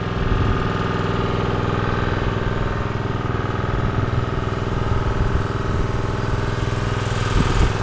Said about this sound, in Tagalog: Papatay na tayo ng makina.